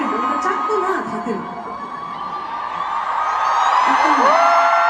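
A concert crowd of fans in Taiwan screams and cheers in a sustained, shrill roar that swells toward the end, with excited whoops rising over the din.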